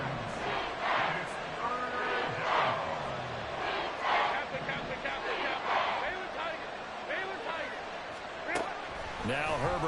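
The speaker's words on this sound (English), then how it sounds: "This crowd turning up the decibel level." A stadium crowd in an EA Sports football video game roars and swells in loud, continuous waves, with rising cheers throughout.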